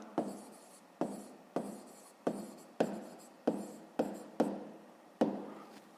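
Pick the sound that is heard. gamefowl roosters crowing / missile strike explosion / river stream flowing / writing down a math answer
writing down a math answer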